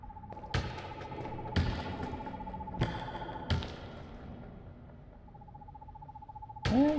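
Several hooting bird calls from the video game Perception repeat in a steady tone, broken by a few sharp thuds and knocks, with a louder burst at the end.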